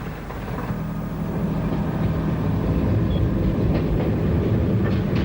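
A British Railways railcar of the 1950s–1960s stands at a station, its engine giving a steady low idling rumble with faint mechanical rattle, continuous and moderately loud throughout.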